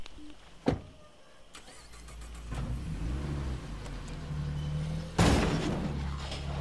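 Car driven in the video game State of Decay 2, a steady close engine hum building in pitch, with a sharp thump early on and a louder bump and rumble later, no talk.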